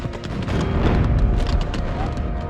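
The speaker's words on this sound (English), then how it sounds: "they unleashed a tremendous volley of rifle and cannon fire." A volley of rifle and cannon fire from Union soldiers at the Battle of Gettysburg rolls out as a dense, booming rumble, sustained and loud for a couple of seconds.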